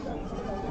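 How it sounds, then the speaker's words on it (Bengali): Small young goats bleat at a rural livestock market, a short close cry over a murmur of crowd noise. "আমরা এখানে কিছু ছোট ছোট ছাগল দেখতেছি।"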